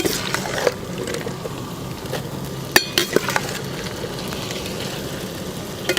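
Onions fry in a large pot with a low bubbling sizzle, punctuated by a few sharp metallic clanks and scrapes of stirring, close by with steady background hum and no talking.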